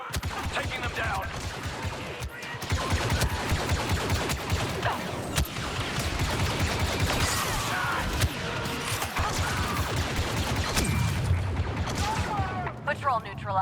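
Rapid blaster fire from a Star Wars Battlefront II battle on the moon Yavin 4, dense overlapping bursts of shots and impacts that continue throughout, with game voices and combat noise mixed in.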